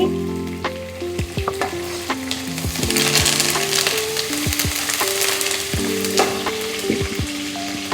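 Curry leaves and green chillies crackling in hot oil for mandakki usli, a loud dense sizzle with repeated sharp pops and spatters plus stirring clinks, close and continuous with no voices.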